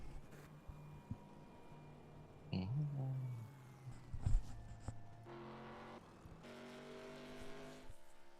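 Race cars in NASCAR iRacing at Daytona, 2007 Nextel Cup cars rolling off pit road for single-car qualifying, giving a low engine drone with revving bursts and a brief tire squeal, rising toward the end.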